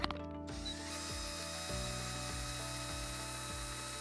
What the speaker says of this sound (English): we're going to chuck it into the drill, and we're going to use the power of the drill to spin out all that dust